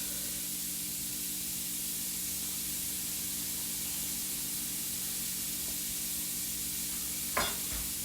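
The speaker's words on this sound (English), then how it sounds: "we're going to go ahead and saute our onions right in that same pan" Onions sautéing in leftover sausage grease in a pan give a steady, broad sizzling hiss throughout, with a brief clatter of stirring near the end.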